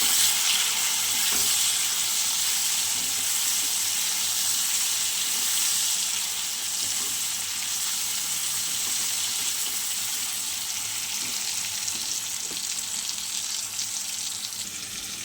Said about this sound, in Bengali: চলো বেশ সুন্দর করে ভেজে নিই।